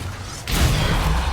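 A Depulsor spell cast in the video game Hogwarts Legacy: after a short quiet moment, a sudden loud whooshing blast kicks in and rumbles on to the end, with no voices.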